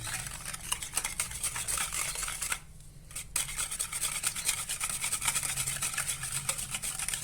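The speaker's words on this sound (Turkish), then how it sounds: "Şimdi şöyle güzelce hemen çırpalım. Malzemelerimizi." Steady, rapid scraping and whisking of apple cake batter ingredients in a bowl continues throughout, pausing briefly midway before resuming.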